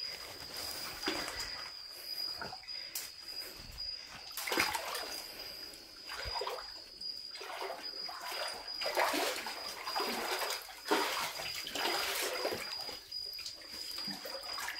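Water in a cave lagoon at Linao Cave in Sulangan, Guiuan, Eastern Samar, with a continuous soft wash and splashing and occasional louder sloshes, echoing faintly under a high steady whine, with no talk.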